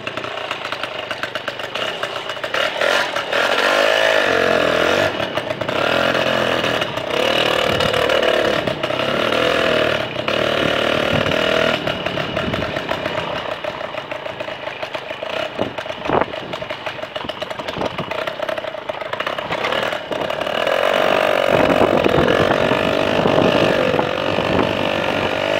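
An MBK 51 moped out on a ride, its small two-stroke engine buzzing loudly and continuously close by, the pitch rising and falling as it revs and eases off, with no voices over it.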